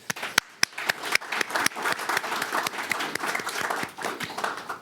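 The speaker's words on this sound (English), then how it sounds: "a round of applause" Applause from an awards ceremony audience, a steady, dense patter of many hands with a few sharp, close individual claps standing out, sustained throughout without pause.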